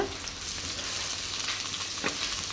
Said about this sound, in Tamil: இதையும் சேர்த்துட்டு நல்லா மிக்ஸ் பண்ணிக்கலாம் இஞ்சி பூண்டோட பச்சை வாசனெல்லாம் போய் நல்லா வதங்கணும்